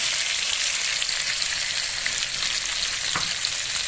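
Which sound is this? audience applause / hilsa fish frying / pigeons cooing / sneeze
hilsa fish frying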